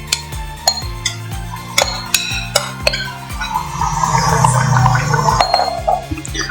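Spoon stirring homemade tomato pickle paste in hot oil in a pan: regular metallic taps and clinks against the vessel, then a soft bubbling sizzle building as the paste cooks.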